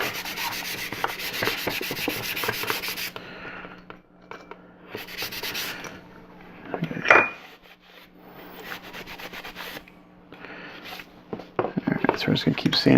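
Wood being sanded by hand with wet sandpaper on a 1/8 scale model build, a steady close rasping rub in long back-and-forth strokes, briefly pausing midway, with a person talking over much of it.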